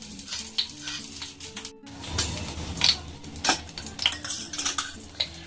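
Whole cloves and a cracked cardamom pod go into a hot pan for a pointed gourd dish, sizzling steadily while a utensil stirs and clinks against the metal in scattered scrapes and taps.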